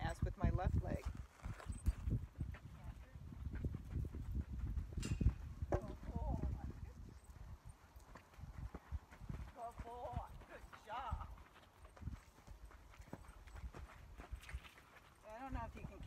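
Gaited horse cantering on the right lead during training, rhythmic hoofbeats thudding close by throughout, with a rider talking over the footfalls.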